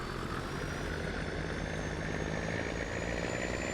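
An International tractor and a Peterbilt truck race side by side in Farming Simulator 19, their engines blending into a continuous, loud, steady droning roar with no pauses.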